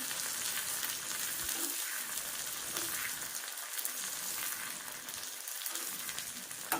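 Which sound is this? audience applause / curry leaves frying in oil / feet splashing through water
curry leaves frying in oil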